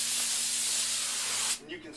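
A spray gun atomizes cement coating with atomization air in a loud, steady close-up hiss that cuts off sharply near the end, leaving a fainter sputter.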